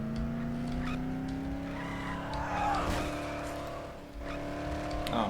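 A car's engine in the Dead Island video game holds a steady revving drone with faint tire squeal and rumbling, briefly dipping near the end before picking back up.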